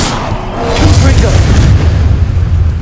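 A Confringo spell in Hogwarts Legacy goes off as a deep, rumbling boom that swells and then holds as a dense roar for a few seconds.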